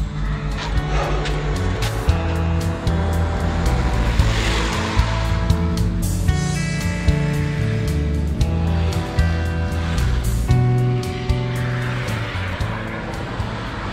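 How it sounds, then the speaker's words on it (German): A car passes on a road near Sutri, Italy, on a summer bicycle tour toward Rome, rising and falling as a steady, fairly loud rush that fills the whole stretch without speech. "Und immer kommt ein Auto, wenn man filmen will."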